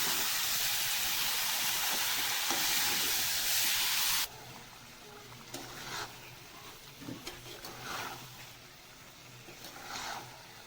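Chicken kosha sizzling in a pan, a loud, bright hiss that cuts off suddenly and leaves quieter crackles and faint spitting sounds.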